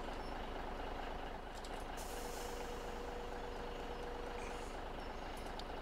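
A tractor in a farming game idles with a steady, low engine drone while a hydraulic whine rises briefly as the implement is lowered onto a trailer, quiet and continuous throughout.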